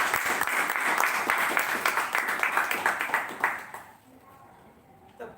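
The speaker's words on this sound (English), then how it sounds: "Please give me a big applause." An audience at a Toastmasters club meeting gives a burst of steady applause, many hands clapping together at moderate distance, which fades out after about four seconds into quiet room tone.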